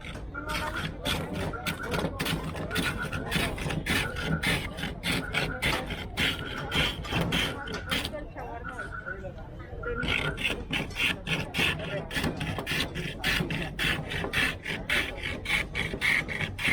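Street vendor shaving a block of ice by hand for a Mexican-style raspado, a rapid rhythmic rasping scrape repeated steadily with a brief pause midway, close and loud, with people talking underneath.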